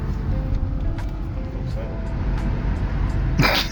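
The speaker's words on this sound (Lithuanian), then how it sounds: "Va, tai gražiai rieda, tedu mašinytė." A car drives along with a steady, low engine and road rumble throughout, close and even, with a short burst of brighter noise just before the end.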